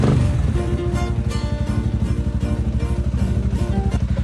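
A rebuilt Sniper 155 motorcycle engine idles close by with a fast, even putter, its steady firing pulses running throughout with no talk.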